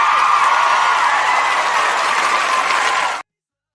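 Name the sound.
crowd clapping applause sound effect played on stream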